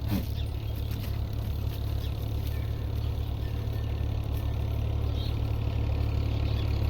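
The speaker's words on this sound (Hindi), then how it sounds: "अब आ गया जी ट्रैक्टर हमारी तरफ।" A tractor engine runs steadily on a sandy desert field during chickpea sowing, a low constant drone heard from a moderate distance, with no talking.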